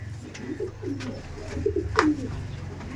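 Pigeons coo softly in a loft, a few short low coos spaced over a few seconds against a faint background hum.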